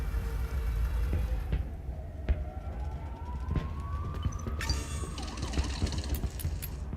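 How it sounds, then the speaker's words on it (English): Sirens wail through the video game Hell Is Us, a single rising and falling tone sweeping slowly over a dense rumbling ambience, with no voices. "More sirens."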